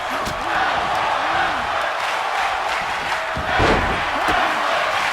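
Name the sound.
wrestling crowd cheering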